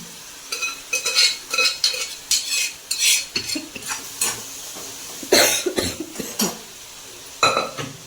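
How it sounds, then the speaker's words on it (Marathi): Repeated scraping and clinking strokes of a spoon stirring kopsha with crushed chili, curry leaves and coriander in a pan, uneven bursts over about eight seconds with no talk. "याच्यामध्ये आपण हलवून घेऊ"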